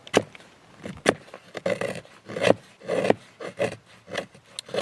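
Tops Airwolf knife with a hollow-grind blade whittling wood, a series of close, uneven rasping scrapes in short strokes, each carving pass rough and scratchy, with no talking.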